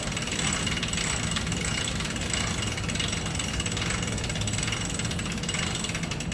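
A Harken haul system winch is cranked fast during a rope rescue setup, giving a continuous, dense ratcheting clatter with mechanical whir, loud and close, steady throughout with no voices.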